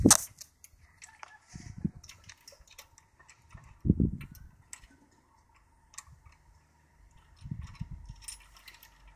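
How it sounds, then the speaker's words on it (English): Screws being threaded into a bicycle carrier part for holding a pushchair make quick, close ticking clicks in short bursts, with a few dull knocks and thumps from handling the part. "And then you just thread the screws into it."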